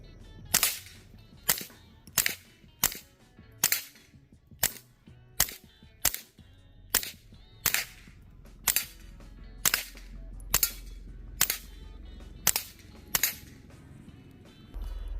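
A string of sharp, muffled cracks from a .22 rifle with a HUXWRX FLOW 22 Ti suppressor, roughly evenly spaced, fired repeatedly outdoors with no talking.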